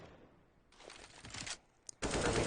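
Bursts of rapid automatic gunfire spam in a tactical shooter video game, a short spray followed by a brief pause and a single shot, then a loud sustained burst at the end, with no talking.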